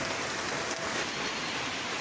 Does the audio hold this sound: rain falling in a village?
yes